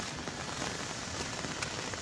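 Steady rain falls in a dense, even hiss with scattered drops striking surfaces, continuous and moderately loud throughout, with no voices over it.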